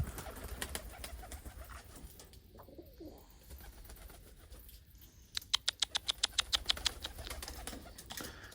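Pigeons coo and flutter, then a quick burst of rapid wing flaps beats sharply several times, close by, as one pigeon is chased.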